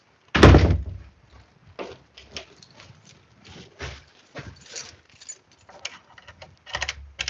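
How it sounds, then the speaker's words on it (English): A door slams shut with one loud, close bang, followed by quieter scattered knocks and shuffling movement for several seconds. "I can't do anything but this door slam"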